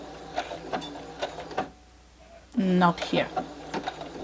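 A sewing machine stitches quilt fabric in short mechanical bursts, the loudest whirring run near the middle, separated by pauses while a person speaks.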